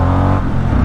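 A Harley-Davidson Sportster S motorcycle engine revs hard and launches, a loud, close, continuous low roar sustained throughout.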